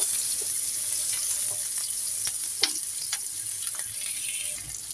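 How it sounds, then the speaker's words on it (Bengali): Onions fry in a pan with a steady, fairly quiet sizzle, broken by a few soft stirring scrapes and crackles, with no voices. "পেঁয়াজগুলোকে সুন্দর করে ভেজে নিব।"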